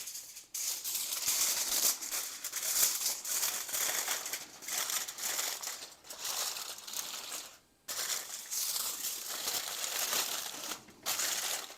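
Aluminum foil crinkled and crumpled by hand while shielding the crust edges of an apple pie, a close, fairly quiet rustling that comes in bursts with brief pauses between.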